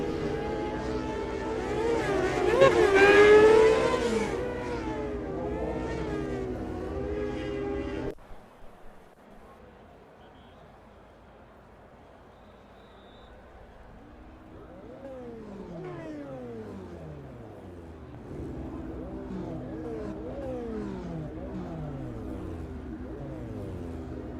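Street stock race cars idle and rev as they line up on a dirt oval at night, a loud engine drone at first, then quieter rumbling with rising and falling revs as cars pass and settle into formation.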